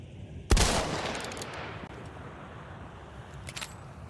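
Video game gunfire: one sharp, loud shot near the start rings out into a long decaying echo, then a couple of fainter cracks follow near the end, with no talk over it.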